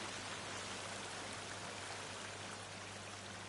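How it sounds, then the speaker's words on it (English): A tiny waterfall in the survival game The Forest, splashing in a continuous close, even rush of water with no voices over it. "Tiny little waterfall, which is cute."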